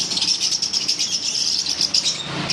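Lovebirds at a bird shop keep up a dense, high-pitched chatter of rapid overlapping chirps and tweets, fairly close and loud, with no talking.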